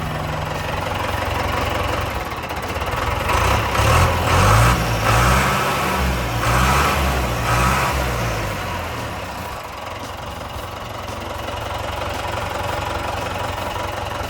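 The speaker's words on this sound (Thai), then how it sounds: "เดี๋ยวเปิดเครื่องให้ฟังให้ดูครับ" A Komatsu 510 wheel loader's heavy diesel engine runs with a steady rumble, revving up and rising in pitch for several seconds before settling back to a lower idle.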